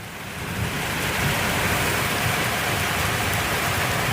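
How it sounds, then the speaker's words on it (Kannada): Rain falls steadily outdoors during a chicken barbecue, a dense, even hiss of drops that holds loud and unbroken throughout, with nobody speaking. "ಮಳೆ ಸೌಂಡ್ ಕೇಳಿಸ್ತಿದೆ."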